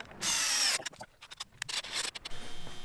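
Power drill driving a self-tapping screw into a steel cargo trailer frame: one loud, steady high whine of about half a second, followed by scattered clicks, knocks and handling noises close by.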